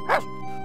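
A dog barks once in the Simon the Sorcerer PC/DOS game, a single short, fairly loud bark near the start followed by a low steady background tone.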